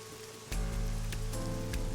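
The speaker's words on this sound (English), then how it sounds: "Right now, she's standing in the pouring rain with her umbrella up" Heavy pouring rain falls in a video game scene, starting abruptly as a dense, loud, continuous patter beneath a low steady tone.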